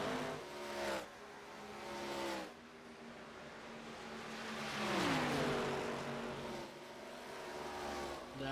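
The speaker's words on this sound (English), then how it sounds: "These two cars are really starting to ramp it up here." ARCA stock cars racing at Chicagoland Speedway, their engines droning steadily with pitch sweeps as cars pass and shift, fairly loud and continuous with no talking.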